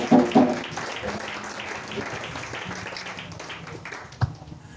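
A church congregation applauding, a burst of clapping that starts loud and then thins into scattered claps and room murmur, with a voice heard faintly in the background.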